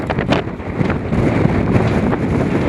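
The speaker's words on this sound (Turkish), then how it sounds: "öyle bir rüzgar var ki oyunu etkiliyor bu rüzgar" Strong wind buffets the microphone at an outdoor football match in İzmir, Turkey, in a steady, loud roar with gusty rumbles throughout.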